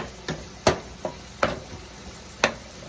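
A spoon stirs a Sicilian Bolognese ragu in a pot, giving a handful of sharp, separate knocks and scrapes against the metal at uneven intervals over a soft background hiss.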